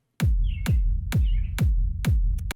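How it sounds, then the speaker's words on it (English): Five evenly spaced unprocessed kick drum hits, deep and round with a short decay, separated by silence and a faint high chirp between some beats. "without the processing, the kick sounds like this."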